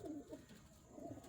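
Racing pigeons packed into transport crates coo softly in low, rolling bursts, a few overlapping calls close at hand against a faint background murmur.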